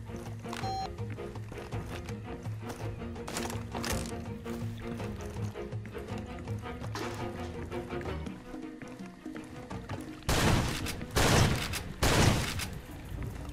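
Gunshots ring out in Far Cry 2, faint shooting under background music at first, then several loud, close bursts near the end.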